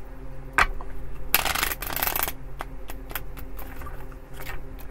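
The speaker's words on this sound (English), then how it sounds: "These cards never want to shuffle." Tarot cards being shuffled by hand, a stiff deck producing a dense riffle burst mid-clip followed by scattered soft card flicks and taps, close and fairly quiet, with no talking.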